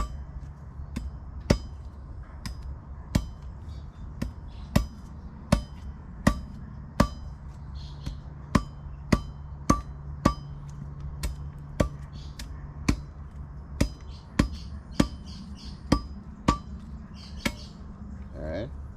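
A hand tool chips down into a piece of wood while shaping a gig, giving steady, sharp tapping strikes at roughly even intervals, close and fairly quiet, with faint shaving sounds between blows.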